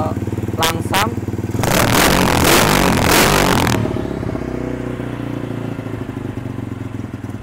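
A used motorcycle engine runs at idle close by, a steady low throbbing putter that is louder and rougher for a couple of seconds with clattering noise, then settles into an even idle for the rest.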